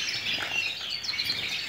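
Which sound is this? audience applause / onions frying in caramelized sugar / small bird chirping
small bird chirping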